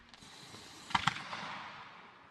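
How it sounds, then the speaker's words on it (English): Fireworks burst at DXC Arena during a T20 cricket match, two sharp cracks in quick succession heard from a distance over a faint crowd wash, followed by a fading crackle. "the first fireworks go off here at DXC Arena."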